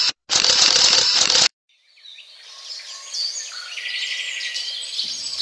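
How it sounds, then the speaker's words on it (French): Birds chirp and sing in high, busy calls that fill the second half, following an earlier burst of broadband noise and a short silence. "j'aime entendre les oiseaux chanter"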